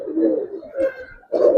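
Several Giribaz highflyer racer pigeons coo close by in soft, throaty bursts, a rolling call, a short pause, then another louder coo, with no talking.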